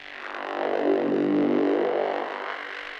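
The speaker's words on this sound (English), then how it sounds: "then we have this horn sound" A sustained psytrance-style synth horn note for techno whose tone opens up and then closes again as a filter sweeps, swelling to a rounded peak before fading.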